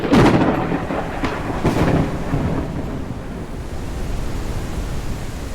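Thunder cracks and rumbles in the game Forever Skies, with a heavy boom early and a second roll, then a dense, steady storm roar that continues after them.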